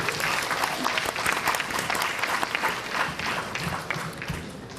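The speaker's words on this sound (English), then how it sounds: "Once again, let's give our applause to Ms. Moira Garland and Robin Chang." Sustained audience applause at a vegan and peace event in Chicago, dense and steady clapping filling the space for the whole stretch, with faint crowd murmur underneath.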